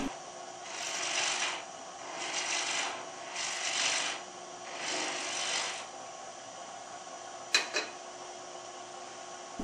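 Wood being roughed into a large cove with a 1-inch gouge on a Shopsmith lathe while turning a table-top clock: five rhythmic rasping cutting passes, steady and fairly close, followed by a couple of brief sharp ticks and a faint motor hum.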